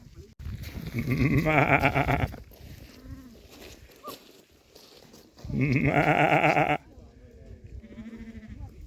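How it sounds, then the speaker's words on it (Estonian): Sheep beside a hiking trail in Karula, Estonia, let out two long, loud, close bleats, each lasting over a second and separated by several seconds of quieter outdoor background. "Ja lambad."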